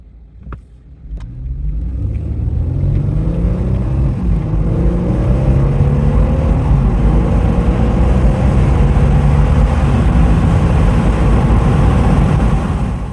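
A rear-wheel-drive Mercedes-Benz V6 pulls away hard from first gear in a 0 to 60 run using paddle shifters, engine note rising loudly and steadily through a long close-up acceleration after a couple of brief clicks.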